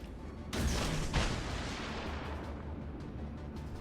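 A single heavy naval gun salvo booms from a destroyer in the World of Warships Legends game, a sudden blast followed by a second report and a long rumbling decay over steady background noise.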